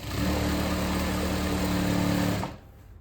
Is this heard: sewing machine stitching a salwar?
yes